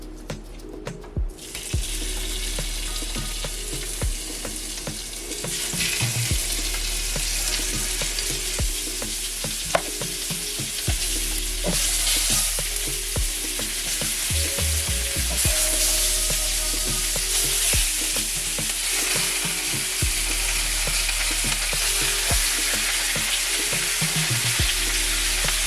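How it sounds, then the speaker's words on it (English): Oxtail pieces fry in a pot over fairly high heat, giving a loud, continuous sizzle and crackle with occasional clinks and stirring bumps, no voices. "My heat is at 3/4 or almost high, and that should take care of frying them"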